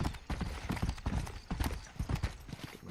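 Horse hooves clip-clop in the Red Dead Redemption video game near Armadillo, a steady rhythmic trot of sharp, close hoofbeats running the whole time with no voices over them.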